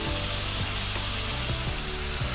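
Chili flakes frying in a pan of oil, a steady broadband sizzle running alone throughout, with a few faint clinks or scrapes as the food settles.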